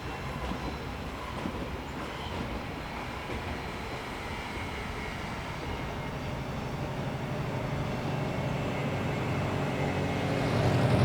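A Swiss train, the 1316 Chur to Bern service, pulls out of the station with a low steady rumble and rolling noise that builds gradually as it gets under way, heard from nearby without talk.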